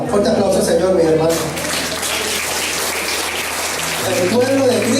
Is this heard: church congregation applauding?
yes